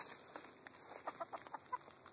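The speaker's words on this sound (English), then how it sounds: "Chickens. That's awesome." Chickens clucking near a bocce ball trail outdoors, a series of short, close clucks and soft calls in irregular bursts, fairly quiet, with no talk.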